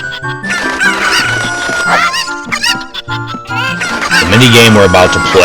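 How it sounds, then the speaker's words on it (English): In the Zelda: Ocarina of Time video game, cuckoo chickens cluck and squawk over loud, busy game music and jingles, with tinkling effects throughout. "I'm gonna take all these regular cuckoos and throw them over here first."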